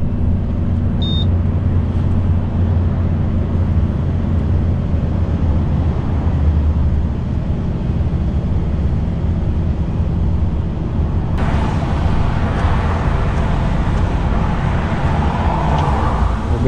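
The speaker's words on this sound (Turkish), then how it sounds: "Şu an retarder sesi var zaten arabada." A heavy truck's retarder engine brake heard from inside the cab as a loud, steady, low drone with road and wind noise, shifting to a brighter, rougher tone partway through; no one speaks.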